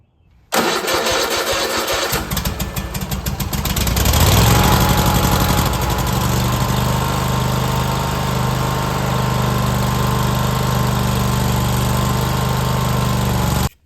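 A riding lawn mower engine cranks and catches, then runs at a steady, loud idle-to-mid throttle drone for over ten seconds while warming up the oil, close by and alone.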